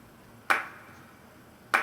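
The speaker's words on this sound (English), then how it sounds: "And then what I've done is layered that with just a couple of hand claps" Layered hand clap samples in a drum mix, panned left and right and slightly overdriven: two crisp, sharp clap hits about a second apart, each with a short bright decay.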